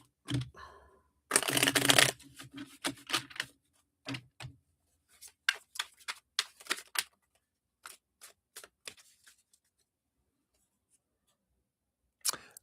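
Playing cards are shuffled up close, a quick riffle burst followed by a series of sharp snapping and tapping sounds, then quiet.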